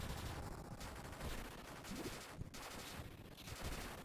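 Rapid bursts of gunfire crackle almost continuously from the General Chaos video game, dense and noisy with brief pauses between volleys.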